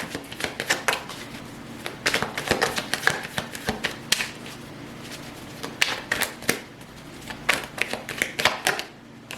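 Tarot cards shuffled by hand, a steady run of quick, crisp riffling clicks and flutters in uneven bursts, close and fairly quiet, with no talking.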